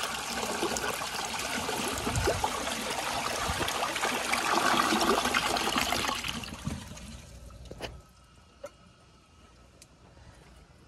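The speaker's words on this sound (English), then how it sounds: "Let's give her it a flush and see how it does on tests." A 2002 Sanitarios Maracay toilet flushes with a strong, rushing surge of water for about seven seconds, then quickly tapers into quiet trickling and refill dribbles, heard close with no talking.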